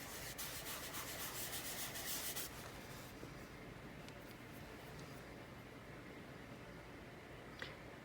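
A pencil or graphite drawing of a muzzle being rubbed down by hand, giving a soft, close, steady broadband rubbing for the first two and a half seconds before settling into quiet room hiss with one small tap near the end.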